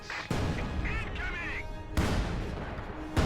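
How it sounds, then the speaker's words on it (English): Artillery barrage in Company of Heroes 2, heavy booming impacts landing in sharp bursts over a dense rumbling battle bed, with a voice talking over it. "Oh, this barrage. Wow, this barrage, yeah."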